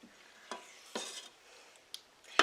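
Sausages heating in a pan of thickening sauce, a soft steady sizzle with a few sharp utensil clinks and scrapes against the pan, close and alone.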